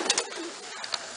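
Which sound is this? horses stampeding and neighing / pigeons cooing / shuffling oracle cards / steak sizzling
pigeons cooing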